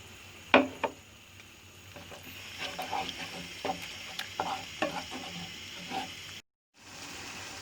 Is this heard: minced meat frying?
yes